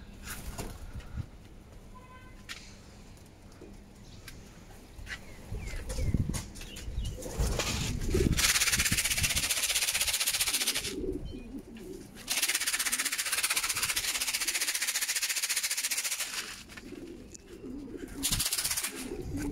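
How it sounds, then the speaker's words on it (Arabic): Racing pigeons return to their loft after a 290 km race from Ounagha. Bursts of loud wing flapping come close by, separated by quieter stretches with soft cooing and bird sounds. "بيس بيس بيس الحمام الحمام الحمام الحمام"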